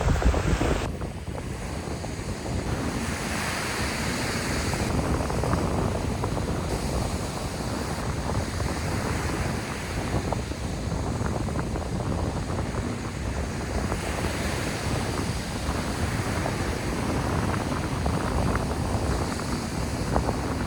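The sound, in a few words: loud ocean waves on a Vladivostok beach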